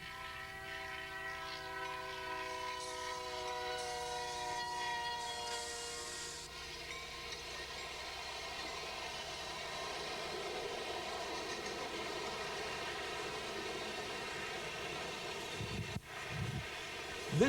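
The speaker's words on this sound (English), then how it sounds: "This train has been in emergency braking from the time the engine crossed the road." A long freight train in emergency braking grinds steadily with sustained metallic squealing tones and a continuous roar, brief thumps near the end.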